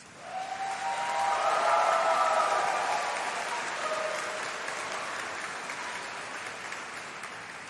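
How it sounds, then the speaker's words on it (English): Sustained applause from graduates at a College of Arts and Law summer degree ceremony, honoring supporters in the front rows; broad steady clapping that swells over the first two seconds, then holds and slowly eases, with a faint crowd murmur beneath. "give a big round of applause, a thank you to all your supporters at the front for that."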